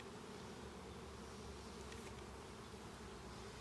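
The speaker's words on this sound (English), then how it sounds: "this is wall-to-wall bees down here" Honeybees fill an open hive during an inspection, a dense, steady buzzing that stays close and loud throughout with no talking.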